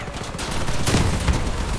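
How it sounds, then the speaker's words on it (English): Rotating cannon firing in the vehicle combat game Crossout, a loud rapid burst of heavy booming shots with dense low rumble, repeating fast and continuous over the short span. "I just love the rotating cannon"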